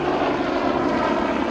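A police helicopter drones steadily overhead during a nighttime-style perimeter search, a constant rotor and engine roar, loud and unbroken with no voices.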